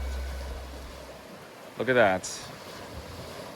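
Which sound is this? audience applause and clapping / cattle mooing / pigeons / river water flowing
river water flowing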